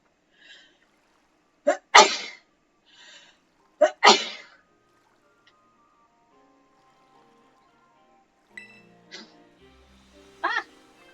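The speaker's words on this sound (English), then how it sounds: "Oh, gotta sneeze." Two sharp sneezes a couple of seconds apart, loud and close, followed by quiet and a few faint chirpy electronic sounds from the video game Pokemon Violet.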